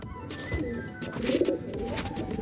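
A brown pigeon cooing close by, soft low rolling coos in a short series against a noisy indoor background.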